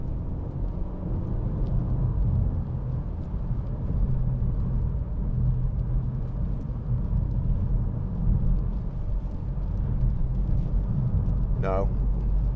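A 2009 BMW 3 Series 318d SE automatic gives a steady, close, heavy low drone as it accelerates along a road, with continuous rumble of engine and tyres throughout.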